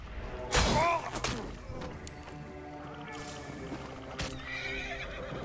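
A horse in Assassin's Creed Origins gives a loud, near whinny, followed by hoof clatter and game effects, with a second burst of activity a few seconds later.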